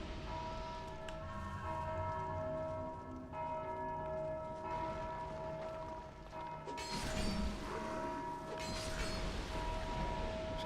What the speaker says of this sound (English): that guy's ringing his merry bell over there